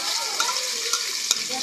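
Canned sardines being stirred and fried in a pan, a steady hissing sizzle with the scrape and clink of a utensil against the pan at intervals, close and fairly loud.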